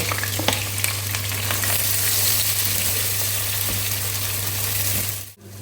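Chopped onions hit hot oil with whole spices such as green cardamom and cloves, producing a loud, continuous sizzle over a low steady hum, with a few clicks before it cuts off sharply at the end.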